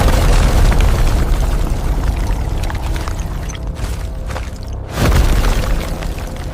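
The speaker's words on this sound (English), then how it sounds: "Now, let the avalanche begin." A heavy, roaring rumble from an avalanche in a James Bond film scene fills most of the stretch, dips briefly, then surges again loudly.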